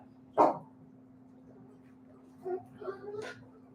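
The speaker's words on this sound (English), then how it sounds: "You see how he be barking? He all be barking when there's negative energy." A dog gives a single sharp bark, followed a couple of seconds later by a few softer yips or whimpers, all over a faint steady hum in a quiet room.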